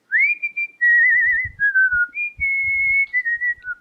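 A person whistles a melodic tune, clear and close, with sustained notes and a few wavering trills, broken by short pauses.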